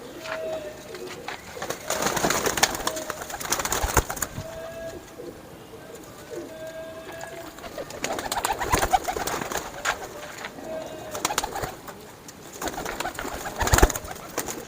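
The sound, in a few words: pigeons cooing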